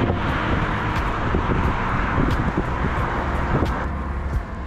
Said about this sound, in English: Trucks passing by always give you so much air in the face.